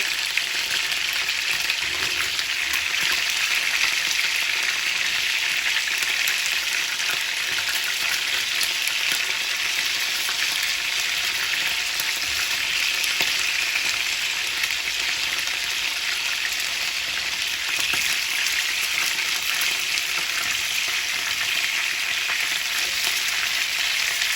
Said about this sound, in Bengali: মাংসটার এক পাশ লাল লাল হয়ে গেছে আমি এখন মাংসগুলো উল্টায় দিব